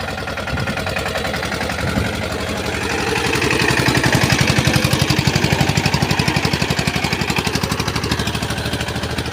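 A small tractor engine running in a field, a loud steady close chugging idle that swells slightly in the middle, with no talk.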